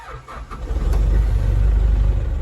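A diesel engine cranks and catches after its glow plugs are warmed, turning over briefly and then settling into a loud, close, steady rumble.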